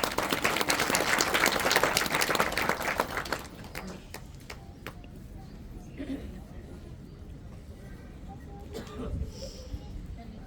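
Crowd applause at a Hindi devotional gathering for Shani Dev, dense clapping for about three seconds that abruptly thins to scattered claps and murmuring voices with faint talk underneath.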